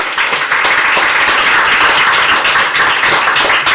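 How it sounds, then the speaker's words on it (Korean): An audience at an academic seminar gives dense, steady applause to welcome the speakers, loud and close throughout. "환영의 박수 부탁드립니다"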